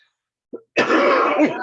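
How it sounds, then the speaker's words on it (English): A single loud, harsh cough from a person with a long-standing cough, preceded by a brief faint throat sound and trailing into a rough, sustained rasp over about a second. "Just a cough."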